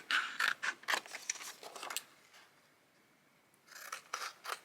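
Scissors cutting paper for a junk journal page: a run of quick crisp snips up close, a pause, then a few more cuts, quiet and with no talking.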